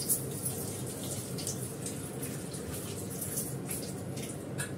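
Tap water runs continuously while bay leaves are rinsed in a kitchen, a steady close hiss with faint splashes and drips, no talk.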